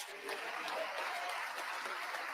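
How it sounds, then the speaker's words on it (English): Scattered clapping from a small audience during a pastor's sermon on the gospel, a steady, fairly soft patter lasting a couple of seconds with no one speaking over it. "not that many people clap their hand"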